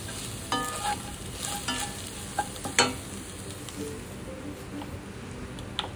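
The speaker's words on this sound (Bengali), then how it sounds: "ঘিয়েতে সমস্তগুলো হালকা হাতে ভেজে নিয়ে" Coconut and rice fry in ghee in a pan, a soft steady sizzle broken by a few sharper scrapes and clinks as the mixture is stirred, with no one speaking.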